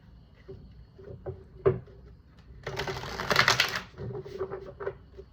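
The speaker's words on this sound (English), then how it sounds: "Let me shuffle this deck." Tarot cards being shuffled: a few soft taps and riffles, then a dense crackling burst of card shuffling around the middle, followed by lighter handling noises, close and fairly quiet.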